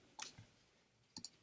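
Calculator keys are tapped while an equation is entered: a pair of quick plastic clicks, a pause, then two more light clicks, close and faint with no talking.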